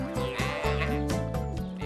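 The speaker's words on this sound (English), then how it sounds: "Oh, no, it's the sheep." Cartoon sheep bleating loudly in a long, wavering harmonic cry, several overlapping voices sustained over a short burst with music in the background.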